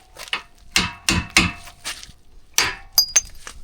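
Hammer striking a seized, rusty trailer wheel bearing, a series of sharp metallic whacks at uneven intervals with some ringing clinks, close and clear, no talk.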